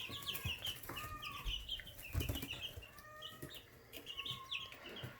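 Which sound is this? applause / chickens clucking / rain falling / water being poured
chickens clucking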